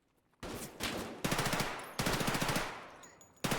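Enemy gunfire in Escape from Tarkov, three loud close bursts of rapid automatic shots, each rattling for about a second with short gaps between, and a fourth burst starting at the end.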